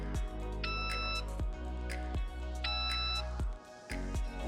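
A GNSS survey receiver on a pole gives a beep during a field stake-out, marking that its position is within about 2 cm. Two short electronic beep patterns sound over a steady low hum, with sharp tapping clicks in between.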